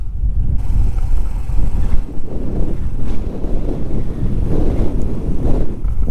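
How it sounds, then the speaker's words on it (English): Heavy wind buffeting the microphone while riding a Honda CT125 motorcycle on a tour through Normandy, France, a loud continuous low roar with gusting swells and no speech. "What is with this wind?"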